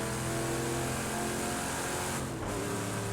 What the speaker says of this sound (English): The noise this car makes is blooming lovely.